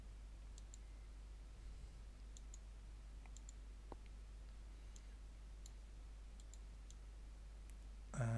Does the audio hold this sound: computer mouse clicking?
yes